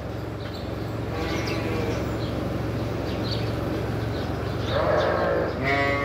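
Lambs and young sheep being gathered for sacrifice bleat in a pen, several high wavering calls rising over a steady low hum, with a louder cluster of bleats near the end.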